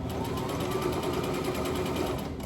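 A sewing machine runs steadily while stitching a tote bag, a close, continuous mechanical whir with a fast regular needle rhythm and no talk over it.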